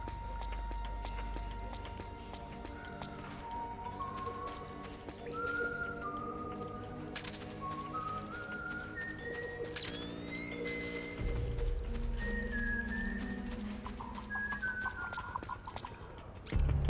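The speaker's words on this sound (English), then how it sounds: "I think I can vaguely hear him whistling." A game character whistling in Metal Gear Solid 4, a faint, thin wavering tune drifting through a busy game soundscape with a steady low rumble and horse-like and farmyard noises around it.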